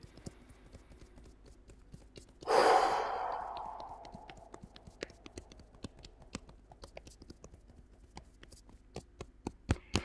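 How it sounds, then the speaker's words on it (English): A single slow, full exhale released in a long breathy whoosh during a breathing exercise in a movement class, loud at first and tapering over about two seconds, followed by quiet rhythmic clicks and taps. "Let's do another full breath in."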